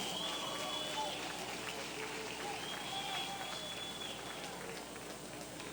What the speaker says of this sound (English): let's give these two warriors one more round of applause tonight